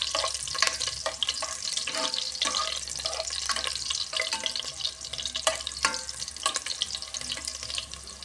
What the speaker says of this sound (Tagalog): Maglalagay na po tayo ng bawang. Mainit na ang ating kawali.